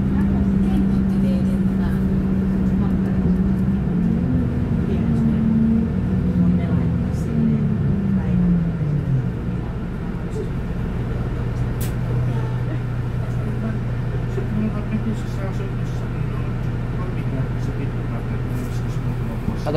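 Inside a moving city bus, a steady low engine rumble and road noise carry on throughout. The engine tone rises and falls as the bus changes speed, with faint voices nearby.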